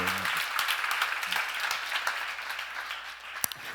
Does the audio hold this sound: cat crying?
no